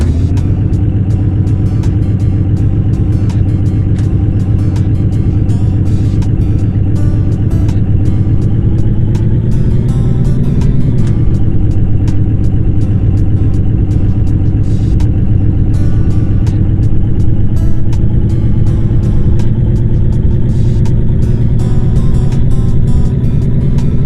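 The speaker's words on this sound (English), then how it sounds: "So the acceleration I tested is really slow, probably because the bus is very heavy." Heavy diesel bus engine in the video game A Long Road, a loud, steady low drone that rises slowly in pitch as the bus gathers speed, running continuously with no talk.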